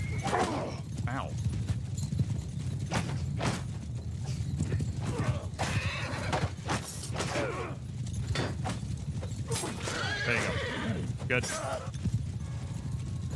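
Horses ridden by mounted horse archers in a medieval strategy video game, steady clip-clop of hooves with an occasional whinny throughout, mixed under battle noise and a voice speaking briefly.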